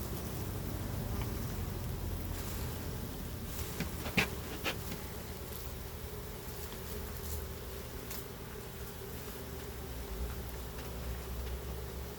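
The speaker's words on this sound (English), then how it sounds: "Here comes a handful of bees." Honeybees buzz steadily during a bee removal, a dense continuous drone close by, with a few brief knocks and rustles partway through.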